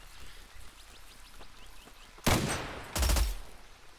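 Gunfire in the survival shooter Zero Sievert: two loud, close bursts of rapid shots in the second half, standing out over a quieter rattling background of distant game noise.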